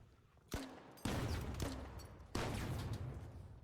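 Grenade launcher rounds in the video game The Finals: three loud, sharp blasts, each with a booming tail; the first round bounces before the later ones explode, with no talk.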